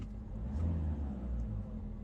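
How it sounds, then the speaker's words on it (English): A car engine rumbles low and steady, a muffled mid-distance drone with a slight swell partway through, faint and without speech. "That's what an engine sounds like when it's revved."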